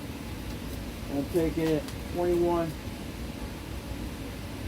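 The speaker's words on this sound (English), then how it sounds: "I got the heater going" A steady, low whooshing hum of a running heater fills the background while someone speaks briefly over it.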